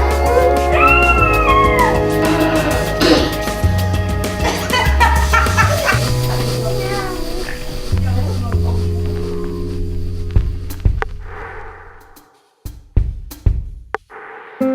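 A child imitates a cat with several drawn-out, rising and falling meows over a steady background drone, followed by a few sharp knocks and thumps.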